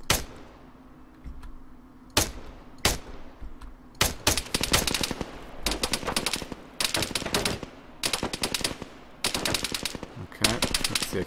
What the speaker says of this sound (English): the machine gun is really suppressing that location